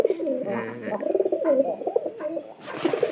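A pair of pigeons coo close by in soft, repeated throaty calls while nesting, with a burst of rustling or fluttering near the end.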